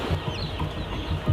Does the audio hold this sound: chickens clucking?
yes